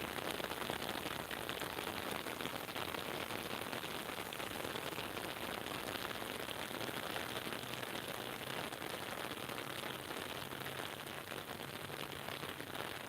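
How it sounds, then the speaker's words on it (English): Gentle rain falls in a steady, even hiss that continues unbroken throughout, fairly quiet and with no voices. "So this is a gentle rain."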